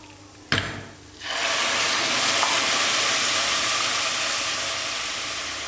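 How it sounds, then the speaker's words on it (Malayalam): Boiled water poured onto rice in a pot for ghee rice: after a sharp knock, a loud, steady rushing hiss runs on without pause, close by and alone, with no talking. "2 ഗ്ലാസ് റൈസ് എടുത്തേക്കണതിന് നമ്മൾ 4 ഗ്ലാസ് വെള്ളം ഒഴിക്കുന്നുണ്ട്"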